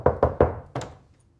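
Three quick, close knocks on a door are followed by a slightly softer double knock, each a dull, resonant thud in a quiet room.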